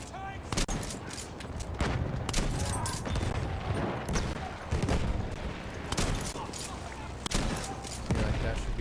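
Model 10 Slug shotgun shots in the Battlefield 1 video game, heavy booming reports amid a busy battlefield of surrounding gunfire and explosions, several sharp blasts spread across the stretch.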